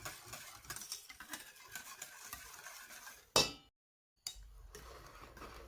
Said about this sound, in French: Il faut continuer le mélange à l'aide du fouet parce qu'au fur et à mesure, la semoule s'épaissit.